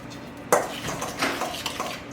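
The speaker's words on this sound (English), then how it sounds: "Stir that in." A utensil stirs a brown sugar mixture in a pot, beginning with a sharp clink against the side and followed by a few soft scraping strokes, close and fairly quiet.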